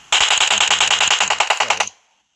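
Rapid automatic fire from an M672 rifle chambered in 7.62 in a video game, a loud sustained burst of close shots lasting nearly two seconds before cutting off abruptly.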